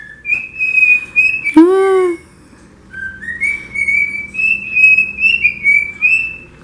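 A chick chirps in high, thin, repeated peeps that rise and fall in short runs, with one lower squawk in the middle, close and clear at a home.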